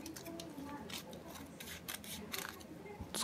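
Scissors snip nori seaweed into thin strips in a home kitchen, a series of crisp close cuts at an uneven pace, with a little talk alongside.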